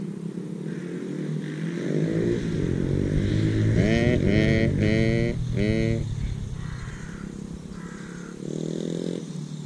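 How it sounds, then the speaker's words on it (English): A mini motorbike passes by outdoors, its small engine buzzing and revving up in a few rising bursts before fading away, loud and close at its peak. "Whenever I see those little mini motorbikes"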